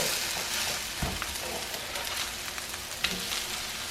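Homemade hash browns fry with a close, steady sizzle in a pan, broken by a couple of sharp spatula knocks as the patties are flipped.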